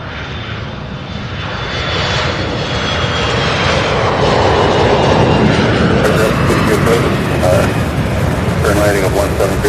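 Aircraft engines roar steadily at Louisville International Airport (SDF), near the UPS Worldport, where 747s are moving; a loud, continuous rumble swells over the first seconds, then holds. A voice talks faintly underneath.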